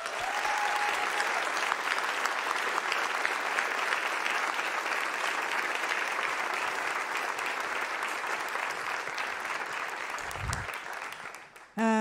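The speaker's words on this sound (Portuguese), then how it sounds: "Por favor, uma salva de palmas." A live concert audience gives sustained, dense applause for about eleven seconds at an even level before it fades out abruptly.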